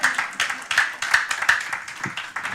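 A church congregation claps rhythmically and cheers in praise of Jesus, with about a dozen sharp, evenly spaced claps over a few seconds.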